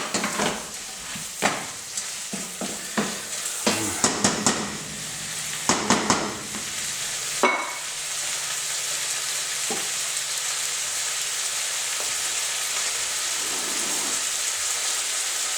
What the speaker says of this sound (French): Je continue de faire revenir.